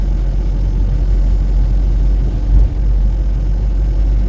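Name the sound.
car driving on snowy road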